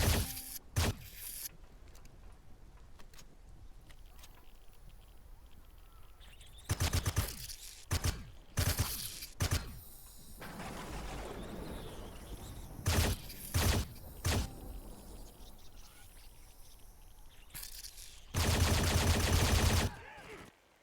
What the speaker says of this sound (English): Where is that sentry gun that just, like, laid into me?